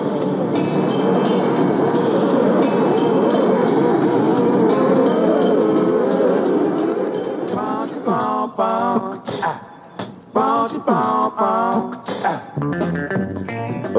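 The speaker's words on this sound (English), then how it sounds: "the subway sound is superbly stimulating" A 77th Street subway train runs loud and close, first as a steady roaring rumble, then breaking into rhythmic clanking and screeching wheel sounds as it slows, with no voices.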